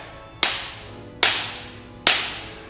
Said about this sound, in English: He'll hear the cracking of the whip on the stagecoach.